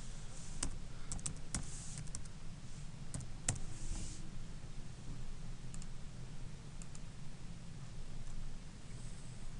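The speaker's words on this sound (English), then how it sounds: "Put in our passphrase" Passphrase being typed on a keyboard during Wi-Fi setup: a run of quiet, irregular key clicks close by over a steady low background hum, with no talking.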